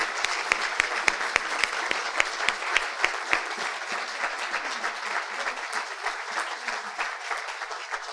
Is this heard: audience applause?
yes